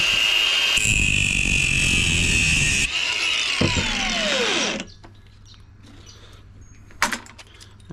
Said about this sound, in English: we're going to chop these two screws up and then we're going to chop the copper out